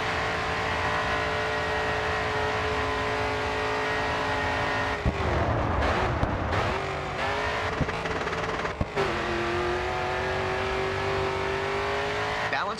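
A racing car in the Grid 2 video game drones with a loud, steady engine, dipping briefly mid-way as it shifts or brakes into a turn before revving back up, continuous throughout.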